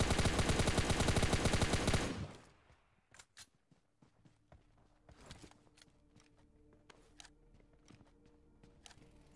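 Dense burst of rapid automatic gunfire for about two seconds in PUBG Lite, then scattered single shots, clicks and footsteps trailing off more quietly.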